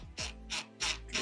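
A screw is driven into a board through a pre-drilled hole with a power driver, heard as four short, close ratcheting buzzes in quick succession.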